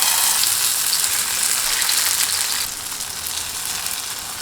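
Eggplant slices grill in a little oil in a hot pan, giving a steady, close bright sizzle and crackle that eases slightly partway through, with no one speaking.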